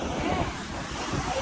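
Sea water rushing past a seaside restaurant built over the ocean in Chennai, a steady broadband wash of surf and wind noise that is loud and continuous throughout, with no clear break between waves.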